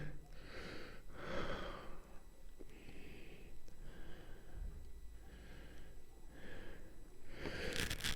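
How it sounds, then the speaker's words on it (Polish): Slow, even breaths drawn in and let out through the nose while lying on the floor during a body exercise, a series of soft close inhales and exhales in a steady rhythm with no talking. "równomiernie, spokojnie oddychamy"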